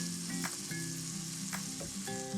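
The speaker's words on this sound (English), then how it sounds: "let's take this beautiful stuffed breast, put it right down in our hot oil" A sausage and cranberry stuffed turkey breast searing in hot oil, giving a steady close sizzle and crackle with occasional scraping and clinks of utensils against the pan.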